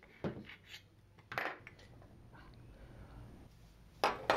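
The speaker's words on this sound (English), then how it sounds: "Once the wing nut is removed, remove the clutch cover" Metal clutch cover being pulled off a small 2-stroke motorized bicycle engine (48cc–80cc class), with several close clinks and clattering knocks of metal parts, including a sharp clatter near the end.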